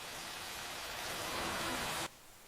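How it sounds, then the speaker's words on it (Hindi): Heavy rain pours down as a dense, steady hiss that swells slightly, then cuts off abruptly near the end, leaving faint background quiet. "आओ आओ अंदर आ जाओ, बारिश तेज है।"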